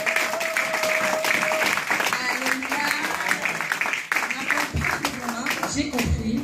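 A church congregation applauds to acclaim God, a sustained wash of clapping with voices and a sung tone mixed in throughout.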